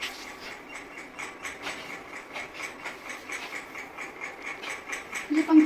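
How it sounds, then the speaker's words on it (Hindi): A noisy kitchen fan runs steadily, giving off a continuous whirring hiss with a quick, regular mechanical clicking or rattling pulse throughout, growing slightly louder near the end. "ये पंखा बेटा आवाज करता है"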